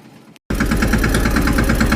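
A farm tractor engine starts abruptly after a moment of quiet and runs loudly and close, a steady heavy chugging drone with a regular pulsing beat.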